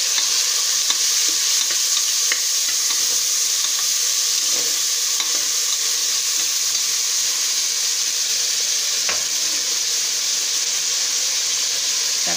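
Onions frying in a pan with chopped tomatoes just added, a loud, steady sizzling hiss close by with occasional faint clicks of stirring and no talking.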